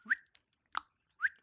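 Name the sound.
person whistling to imitate a dolphin's name call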